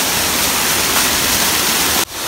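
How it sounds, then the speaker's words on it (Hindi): Fast-flowing stream of water rushing through a village, a loud steady broadband roar close by that continues unbroken and then drops away sharply near the end. "वो स्पीड में पानी जा रहा है।"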